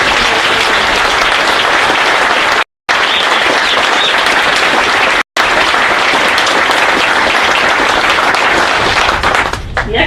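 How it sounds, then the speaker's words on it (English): Loud, sustained applause from a large crowd fills the whole stretch, briefly cut off twice, with no talking over it, at a US Marine Corps Officer Candidate School graduation after a band performance. "join me in a round of applause for the performance of the band"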